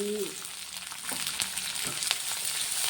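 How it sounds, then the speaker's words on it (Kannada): Chopped onion, green chili and ginger fry in a pan for a quick breakfast dish, producing a close, continuous sizzle with light stirring scrapes and no talk. "ಈ ಒಂದೊಂದೇ ಹಾಕೋಣ ಈರುಳ್ಳಿ ಹಸಿಮೆಣಸು ಶುಂಠಿ"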